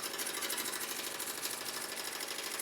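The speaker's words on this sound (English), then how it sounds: "So this is the gold that's stitching out." An embroidery machine stitches gold thread onto a personalized sherpa throw, making a fast, even mechanical chatter that runs steadily and close-up with no talk.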